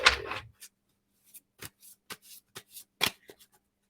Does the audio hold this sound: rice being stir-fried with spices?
no